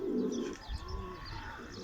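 Soft cooing from a pigeon among a yellow and grey homing flock, close by and in a steady rhythm, set against a low rumbling background. Nobody speaks.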